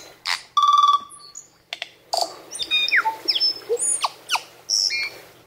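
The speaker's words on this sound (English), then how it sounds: "A little interlude of our native tui bird." Native New Zealand tui singing alone, a varied run of clear whistles, chimes, rapid buzzy notes and sharp clicks, close and fairly loud, with short pauses between phrases.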